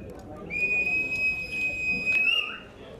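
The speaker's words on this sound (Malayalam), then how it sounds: "ഉദ്ഘാടകൻ വിസിൽ മുഴക്കിയതോടെ ചൂടേറിയ ബിരിയാണി തീറ്റ മത്സരവും മുറുകി." A whistle blown to start a biryani eating contest in Palakkad, one long shrill blast over a murmuring crowd, with a brief chirp at the end.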